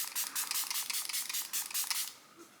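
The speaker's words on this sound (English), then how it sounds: "So I'm just gonna spray my face with this." A handheld face mist spray is pumped repeatedly onto the face during a makeup routine, a quick series of about a dozen close, crisp hissing spritzes in steady rhythm, then silence.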